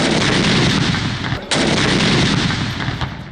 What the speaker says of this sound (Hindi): वफाकी दारुल हुकूमत इस्लामाबाद में दिन का आगाज 31 और सूबाई दारुल हुकूमतों में 21-21 तोपों की सलामी से हुआ।